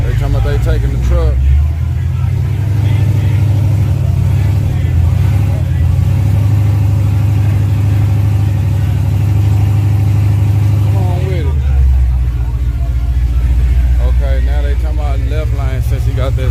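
A supercharged car engine at a drag strip rumbles loud and close, idling and revving in long sustained surges with a drop in pitch near the end, while voices talk over the noise.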